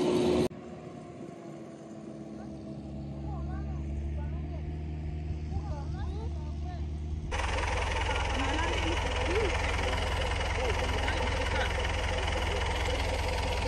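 A farm tractor sits idling on a field being prepared for plowing, its low engine chugging steadily and fairly faint, getting louder and fuller partway through, with a voice talking over it early on.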